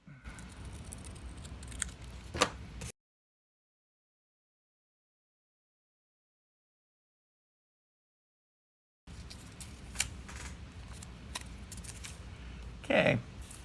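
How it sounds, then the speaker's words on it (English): Old scissors snip through sanding belt material in a few short, crisp cuts nearby, separated by a long stretch of silence. "Old scissors."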